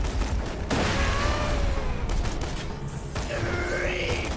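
Sustained gunfire from the Borderlands 2 video game, a dense, loud barrage of rapid shots running continuously under game effects, with brief tonal whines and a rising electronic sweep near the end.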